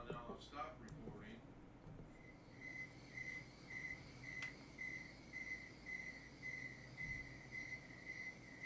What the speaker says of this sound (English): Are you hearing the crickets coming across the live stream?